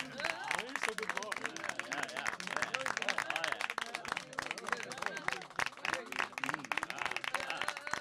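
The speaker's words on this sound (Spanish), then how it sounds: "Demos un fuerte aplauso" Dense, continuous applause from an audience at a school honors event, many hands clapping together in a steady rapid patter with faint crowd murmur underneath, fairly quiet overall.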